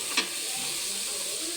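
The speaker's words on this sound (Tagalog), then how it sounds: "Igisa na natin." Vegetables sautéing in a pan for a mixed-vegetable dish, a steady frying sizzle with a brief stirring clatter near the start, continuous and close, with no talking.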